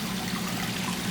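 Water flows through irrigation lines fed by a filtration system, a steady, even rushing trickle that holds constant and close throughout with no voices.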